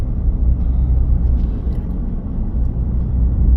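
Rush hour traffic on a road in Canada forms a loud, steady low rumble of many cars, a continuous wash of engine and tyre noise with no clear individual passes.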